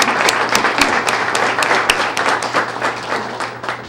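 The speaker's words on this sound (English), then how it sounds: "So everybody stand and give you a big round of applause." Students, mentor teachers and guests stand and applaud a February student of the month at a high school ceremony, a steady, dense clapping that fills the whole stretch with sharp individual claps popping out of the wash.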